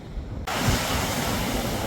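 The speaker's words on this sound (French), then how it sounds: "On s'est pris une petite série de vagues là, c'était énorme." Ocean waves surging onto a beach: a steady, loud roar of breaking surf with heavy wind rumble against the microphone, filling the whole stretch after a quieter opening.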